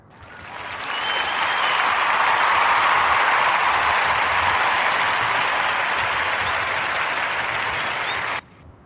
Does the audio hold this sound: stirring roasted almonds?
no